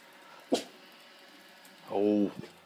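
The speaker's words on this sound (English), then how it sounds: "There's the dogs." Dogs in the pinyon pine hills of California let out a short sharp bark and then a longer, tonal whining yelp in a quiet outdoor setting.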